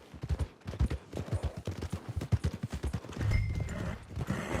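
Horse hooves clip-clop at a steady walking rhythm in a Western video game, close and fairly loud, with a low rumble of other game sounds joining toward the end.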